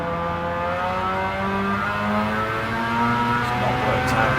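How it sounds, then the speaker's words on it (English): Mazda RX-7 rotary engine howls in a Gran Turismo style racing game on Trial Mountain Circuit, a continuous high revving whine with shifting pitch as the car races with others. "Ben Kimbo, your car sounds very odd, but again, the rotary engines."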